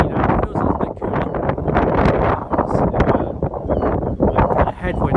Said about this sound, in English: It's quite windy now, it feels a little bit cooler.